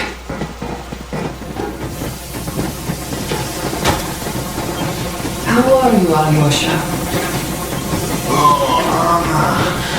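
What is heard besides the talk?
steam train departing in the video game Metro Exodus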